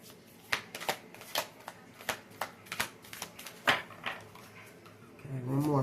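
A deck of stiff cards is shuffled by hand, making a series of close, crisp riffling snaps in an uneven rhythm, with a voice briefly heard at the end.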